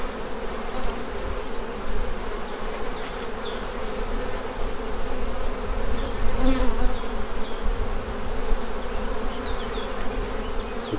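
Honeybees in a recovering beehive give a steady, dense buzzing drone close by, with individual bees flying past now and then.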